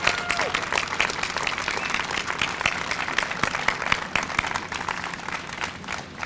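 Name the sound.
audience applause for the workers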